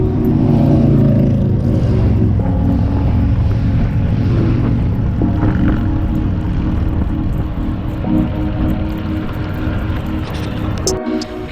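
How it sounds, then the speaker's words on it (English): Road traffic passing on a country road near King City, Ontario, a steady loud rumble of engines and tyres that swells and fades without pause, heard close from the roadside. "It's just a shame about all the traffic."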